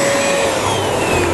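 An Elecpower Atocare EP760 UV vacuum cleaner runs with a loud, steady motor whine and airy rush, close and continuous without pauses.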